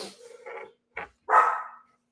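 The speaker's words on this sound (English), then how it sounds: "There are the dogs." Dogs barking outdoors nearby, a few short separate barks with gaps between, ending on one longer, louder bark.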